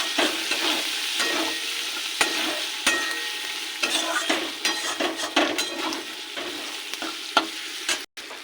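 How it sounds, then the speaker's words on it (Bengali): Cumin, turmeric and chili powder are stir-fried with banana flower and moong dal in a pan, a close steady sizzle layered with brisk scraping and clattering of the spatula, ending in a sharp cut. "একটু কষিয়ে নেব।"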